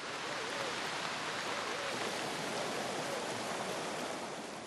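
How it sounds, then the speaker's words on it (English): Steady rain pours down in a dense, continuous hiss, loud and unbroken from start to finish, with no voices over it. "Eventually, though, it rains."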